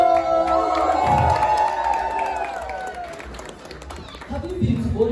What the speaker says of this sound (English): We definitely have a round of applause.